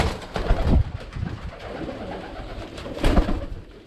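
Pigeons coo in a loft, two loud close bursts of throaty cooing with quieter calls between them.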